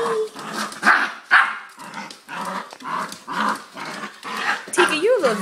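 A West Highland white terrier barks in short, sharp bursts at close range, with growly yips in between and a person's voice talking over it.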